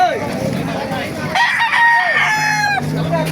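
Chickens cluck close by while a rooster crows loudly, its long call rising and holding over the busy clucking, at a chicken market in Baliuag.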